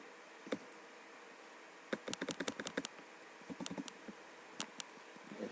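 Typing on a computer keyboard while working through a Perl coding problem, with an isolated key press followed by bursts of rapid, uneven clicks and pauses, close and fairly quiet.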